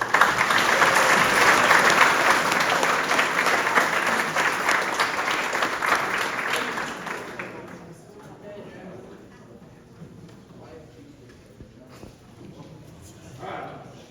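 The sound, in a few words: applause for the quarterback class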